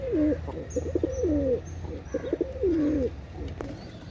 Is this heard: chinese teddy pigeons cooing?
yes